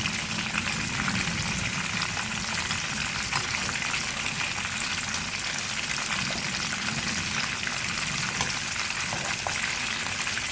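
Chicken sticks fry in hot oil over a medium flame, giving a steady, close, crackling sizzle that runs evenly for about ten seconds with no talking.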